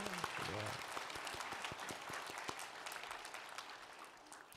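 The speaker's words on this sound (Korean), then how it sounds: "그런 모든 분들을 위해서 한번 박수 한번." Church congregation applauds during a sermon, a quiet wash of clapping with a few distinct sharp claps, beginning under a brief spoken voice and tapering off.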